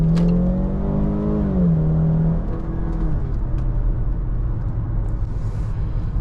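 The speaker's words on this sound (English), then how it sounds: "let's take this corner and give it some gas and sport" A 2017 Land Rover Range Rover Evoque SE with a ZF automatic, in sport mode, accelerates hard through a corner; the engine note rises, shifts, then settles into a steady loud drone with road rumble.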